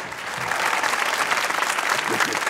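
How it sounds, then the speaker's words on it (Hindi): A comedy talk show studio audience applauds continuously, dense clapping at steady volume throughout, with a voice briefly audible underneath. "तालियां होनी चाहिए।"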